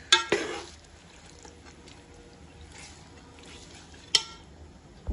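Mutton gravy for Lucknowi dum ka gosht is stirred in a pan over a gas flame, giving a few soft spoon clinks and scrapes over a faint, low simmer. The sounds are quiet and sparse, with one clink near the end.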